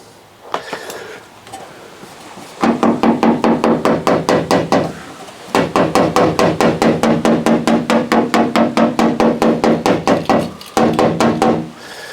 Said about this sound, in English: get one of your little hammers